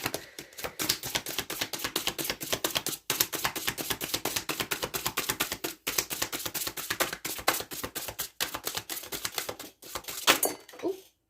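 Rapid, rhythmic clattering of tarot cards being riffled and shuffled, continuing steadily with brief pauses, close and crisp.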